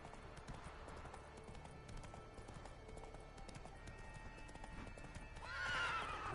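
Roach, a horse in a video game, gallops in a steady clip-clop rhythm of hooves with a whinny, loud and close, getting louder and busier near the end.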